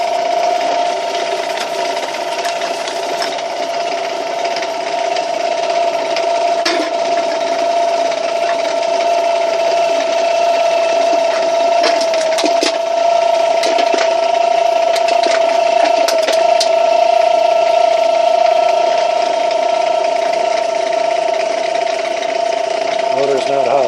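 A homemade can crusher machine runs through a test with a steady, loud motor hum and mechanical whir, broken by scattered clanks and crunches as cans are crushed; a voice talks briefly over it.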